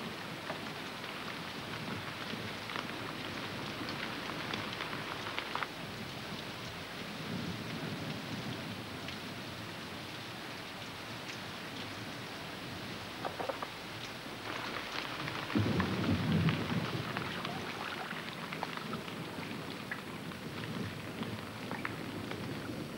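Heavy rain pours steadily over sandy turtle nesting grounds as thunder rumbles repeatedly, with a louder nearby peal swelling late on; no voices.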